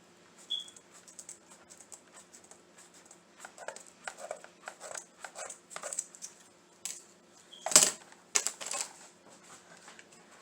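Scissors cutting craft material for a wreath, a series of crisp snips and rustles of varying loudness, close, with one sharper cut near the end and no talk.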